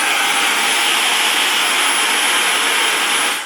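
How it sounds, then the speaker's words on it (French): Dyson Supersonic hair dryer running at its minimum power setting: a continuous loud, airy whoosh with a thin high whine on top, close and steady, dropping off right at the end, with no talking. "je voulais vous faire écouter le bruit du sèche-cheveux"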